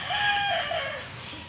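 A Kelso rooster, a tall broodcock, crows once in a single drawn-out call that sounds close and fairly loud, with no talk over it.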